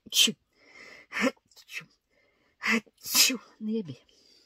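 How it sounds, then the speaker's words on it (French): A single loud sneeze with sharp bursts of breath around it, close to the mic, followed by a few quiet exhalations. "Je vais éternuer."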